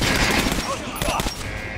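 Sustained rapid gunfire at a regular training dummy in the video game Metro: Last Light, a loud, dense burst of shots that runs through the whole moment without a pause.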